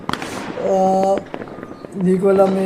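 Fireworks in a video game pop in a few short, sharp bursts, while someone talks over them for most of the moment.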